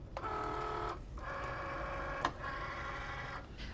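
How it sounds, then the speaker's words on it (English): A Cricut Maker cutting vinyl gives a close, steady motorized whir with a tonal hum, broken into three long passes by brief pauses and one small click. "now we're at our Cricut maker, and this is the original maker, and we're ready to cut our vinyl"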